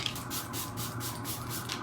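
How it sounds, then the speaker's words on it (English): Dibs Love Beam setting spray misting steadily from a pump bottle, a close, continuous airy hiss with faint pulsing that lasts under two seconds, no voices. "This is also new. Dibs Love Beam setting spray."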